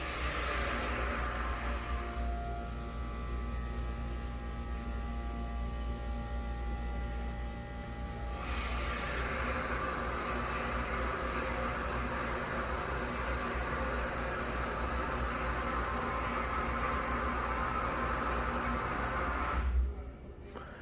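An Otis HydroFit hydraulic elevator motor runs in a building, a steady mechanical hum and hiss that shifts in tone partway through, then cuts off near the end.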